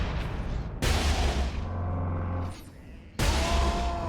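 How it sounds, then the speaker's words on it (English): Sniper rifle shots in the Warhammer 40k Space Marine video game, two heavy booming blasts with a long rolling tail between them, loud and close. "Oh no, this is the actual sniper."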